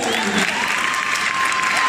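An audience bursts into steady, dense clapping for student performers at an arts and crafts centre showcase, filling the space close by.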